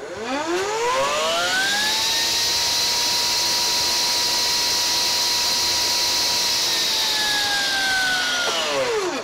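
A Metabo 36V MultiVolt brushless 10-inch table saw starts up with a soft, rising motor whine, holds a loud steady pitch for several seconds, then drops sharply as the electronic brake stops it, with no talking.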